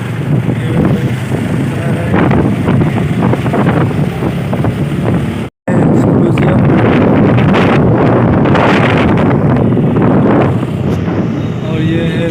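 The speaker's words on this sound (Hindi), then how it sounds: "अभी बाइक से जा रहे हैं।" Heavy wind buffets the microphone while riding a motorbike, a loud, continuous roar that cuts out abruptly for a moment midway and then resumes at full strength.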